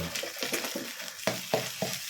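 Fish sauce hitting a hot wok while duck egg fried rice cooks gives a steady sizzle, with several sharp hissing bursts and scraping stir strokes near the end, close and moderately loud.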